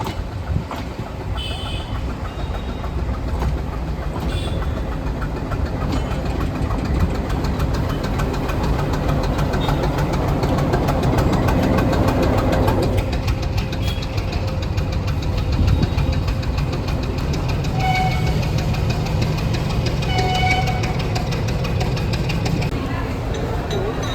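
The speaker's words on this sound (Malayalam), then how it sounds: "ആ കാണുന്ന ഡീസൽ എഞ്ചിനും ഒരു എക്സ്ട്രാ ബോഗിയും കൂടിയാണ് ഘടിപ്പിക്കാൻ പോകുന്നത്" A Nilgiri Mountain Railway diesel locomotive runs at Coonoor station with a steady, heavy knocking engine rumble that swells slightly midway, while a person talks over it.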